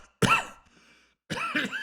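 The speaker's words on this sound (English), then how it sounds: "My grandpa went into a coughing fit" An elderly man coughs, first in one sharp burst and then in a rougher, drawn-out run of hacking, close and dry with a brief silence between.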